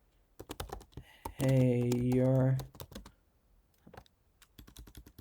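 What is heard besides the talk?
typing on a computer keyboard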